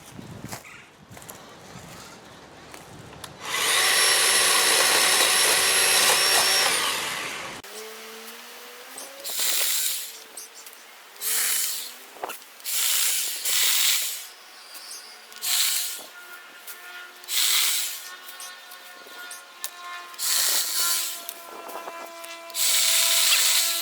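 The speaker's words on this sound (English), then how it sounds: "I guess it's time to try out the new chainsaw" A new chainsaw revs loudly in a backyard, first a sustained high whine, then a string of repeated rising and falling bursts as the throttle is worked on and off.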